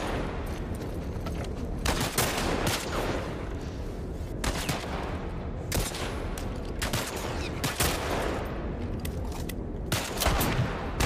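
Pistol gunshots in the video game The Last of Us Part 1, a rapid run of sharp, loud bangs at an uneven rhythm over a constant dense game backdrop, with no talk.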